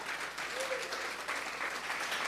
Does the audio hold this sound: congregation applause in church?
yes